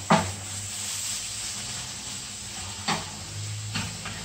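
Curried mince browning in a hot pan over medium heat, giving a steady, close sizzle and hiss with a few soft stirring scrapes breaking through.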